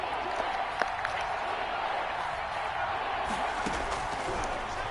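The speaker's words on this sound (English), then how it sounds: "The crowd getting into it as we come up on a big 3rd down." A crowd in a Madden football video game roars as a steady wash of noise, building ahead of a big third down, with faint thuds mixed in.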